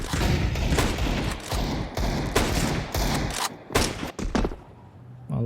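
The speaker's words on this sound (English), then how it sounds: "A lot of bullets put through the wall of smokes, but not a single connection here for the MongolZ" Rapid bursts of gunfire from a Counter-Strike match between TheMongolZ and Team Liquid, sprayed through a wall of smoke; loud, near, dense volleys with short gaps between them.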